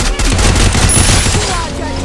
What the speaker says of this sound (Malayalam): ഈ നേരത്താരാ പടക്കം പൊട്ടിക്കുന്നത്?